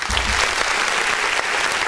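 Steady, dense applause from a crowd, continuous and fairly loud for the whole stretch, with no voices standing out.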